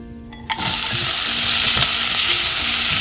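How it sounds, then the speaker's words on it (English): Curry leaves and onion hit hot oil for Goan green beans, a burst into a loud, close, steady sizzle with a few spoon scrapes, no voices. "it's time to add the curry leaf and stir fry for 30 seconds"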